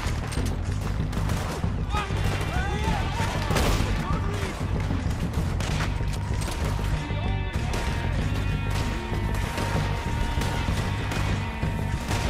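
Gunfire in Red Dead Redemption 2 during a train robbery, with dense overlapping shots and crashes sounding continuously and loudly, and voices mixed in underneath.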